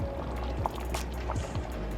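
Sour cream is poured slowly into a pot of chicken taco soup while being stirred, giving faint, soft liquid plops and gloppy stirring under a low background hum.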